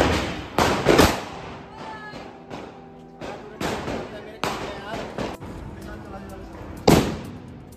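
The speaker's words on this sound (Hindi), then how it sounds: "वो भी पटाखे फोड़ रही है।" Firecrackers set off during Diwali celebrations outdoors, with several sharp loud bangs and crackling bursts in irregular succession, some close and some more distant, while people talk nearby.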